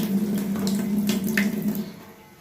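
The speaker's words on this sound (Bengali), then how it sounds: "আমি এখানে একটু এই আইসক্রিমের ছাঁচটা একটু পানিতে ভিজিয়ে নেব।" Tap water runs steadily over an ice cream mould for custard lollies, a close continuous splash that tapers off at the end.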